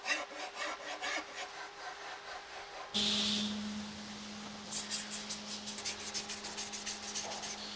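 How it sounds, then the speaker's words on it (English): Hand sanding of a wooden electric guitar body built from scratch, rhythmic back-and-forth abrasive strokes, close and steady, with a brief harsher burst of rubbing midway and no talking. "It's all sanded. Nice and smooth."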